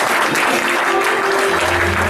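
A church congregation claps in sustained, dense applause, loud and close throughout with no break.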